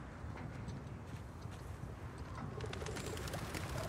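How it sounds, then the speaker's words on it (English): Soft cooing calls from birds in the video game Uncharted 4: A Thief's End repeat over a dense, steady background wash, moderately quiet and not very close. "Birds."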